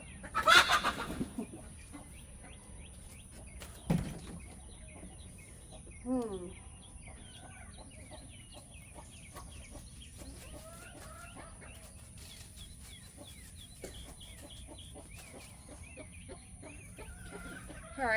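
Chickens cluck softly and intermittently in the background, with a few louder knocks and rustles near the start and a faint constant high whine.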